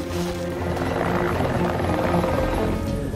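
Two helicopters' steady, loud rotor drone fills the whole stretch, constant and close with no pauses.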